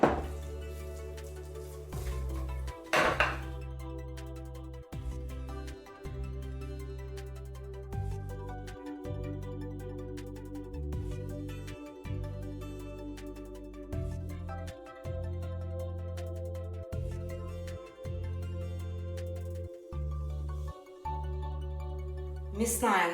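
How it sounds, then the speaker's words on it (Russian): A meat grinder minces cooked meat together with fried onion, its motor droning in a steady low hum that keeps cutting off briefly and restarting, up close with no talk. "Мясо вместе с обжаренным луком нужно будет прокрутить через мясорубку"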